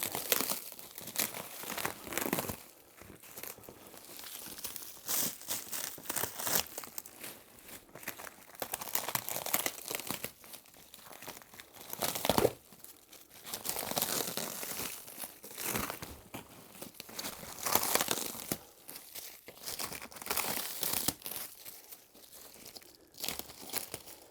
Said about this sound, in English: now some more cellophane wrapping here.